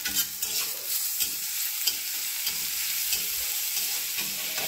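Crushed spice paste fries with onions in hot oil, a loud, close sizzle broken by repeated scraping and stirring strokes of a spoon against the pan.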